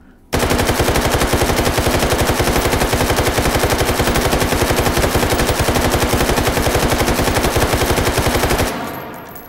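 Sustained rapid automatic fire from a drum-magazine Russian firearm in the VR shooting game Hot Dogs, Horseshoes and Hand Grenades, a loud, dense, unbroken burst lasting about eight seconds before cutting off abruptly.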